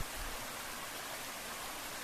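Spring water trickles and rushes over rocks in a forest in an even, unbroken hiss, close by, with no voices.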